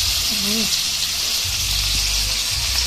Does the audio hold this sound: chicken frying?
yes